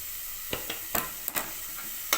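Onions and green chillies fry quietly in a pan under a soft hiss, with a handful of sharp stirring scrapes spaced irregularly and nobody talking.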